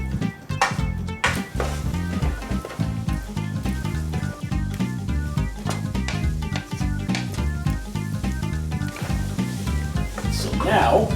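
Shrimp pad thai stir-frying in a pan, a steady sizzle running throughout with intermittent stirring scrapes, close and loud, mixed with a strong tonal background that sounds like music.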